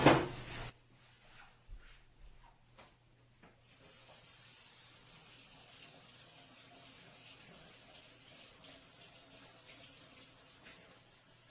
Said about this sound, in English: So I need to go to my sink to get some warm water